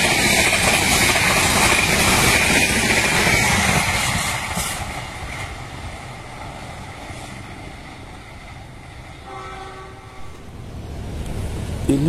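A train rumbles nearby with a loud continuous roar that gradually fades, then builds again toward the end, with a brief horn-like tone.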